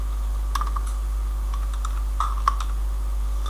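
Light keystrokes tap on a computer keyboard in a few scattered clusters while a SQL query is edited, the quiet clicks sitting over a constant low hum.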